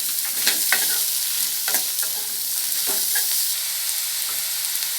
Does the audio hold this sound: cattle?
no